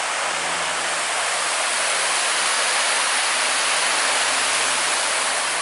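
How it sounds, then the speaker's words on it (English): A waterfall rushes down in a scenic natural setting, a loud, steady, close roar of falling water that fills the whole clip without any break or voices. "staring into this waterfall going down"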